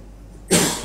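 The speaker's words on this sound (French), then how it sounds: "la petite toux qui me dérange" A single sharp cough bursts out after a near-silent half second, loud and close, with a breathy tail trailing off.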